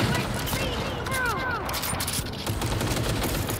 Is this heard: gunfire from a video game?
yes